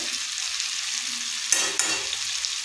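Mutton and potato masala frying in a pan is stirred, a low sizzle broken by a couple of sharp spatula scrapes against the pan, close and with no talking.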